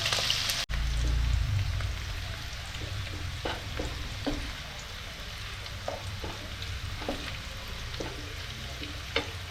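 Whole garam masala and onion frying in hot oil in a home kitchen for an oyster recipe, a steady soft sizzle with scattered small crackles and pops, close and continuous after a brief clatter at the start.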